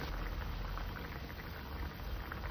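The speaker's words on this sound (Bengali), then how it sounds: "তরকারিটা ফুটে গেছে, আলু ও কুমড়ো দুটোই গলে গিয়েছে।" Fish curry with pumpkin and potato bubbling in a pot, a steady soft simmering hiss and patter that stays even and close throughout, with no voices.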